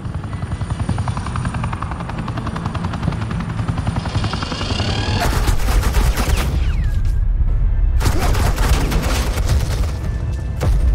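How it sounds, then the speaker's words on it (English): Suppressing gunfire from Agent Quinn in Batman The Enemy Within crackles in dense rapid bursts over a steady helicopter-like thrum, the firing surging in two loud stretches near the front of the mix. "suppressing fire."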